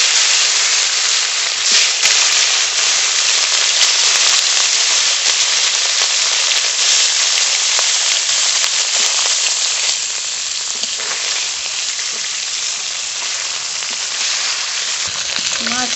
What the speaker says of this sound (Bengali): এই মাছের তেলেই ভোলা মাছগুলো ভেজে নেব।